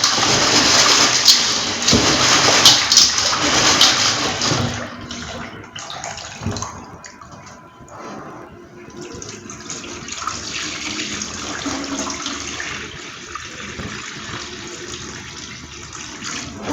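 Corn kernels being washed a second time for homemade Tom Brown, with loud water rushing and gushing, then the water being drained away in sloshing, trickling splashes that ease into quieter dribbling.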